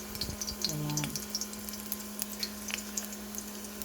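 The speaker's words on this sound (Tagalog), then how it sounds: "pabrown natin yung bawang para lalong masarap ang ating sinag na kanin" Garlic with its skin on frying in a pan for sinangag fried rice, a soft crackling sizzle with scattered pops over a steady low hum, fairly quiet throughout.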